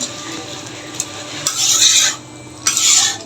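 Spoon stirring bottle gourd curry with a sweet sauce in a hot pan, giving soft scraping and rasping strokes in two louder bursts with a faint sizzle underneath, close up and with no voices.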